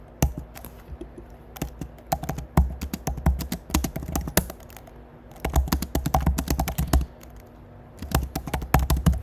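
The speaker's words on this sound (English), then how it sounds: "if I click on my keyboard right here, you can see that if I start typing" Rapid, irregular clatter of keys on a computer keyboard, close and fairly loud, with short pauses between bursts of typing.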